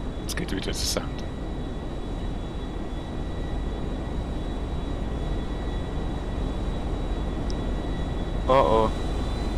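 A giant passenger airplane in GTA Online produces a steady, loud engine roar that fills the whole stretch, with brief sharper noises near the start and end.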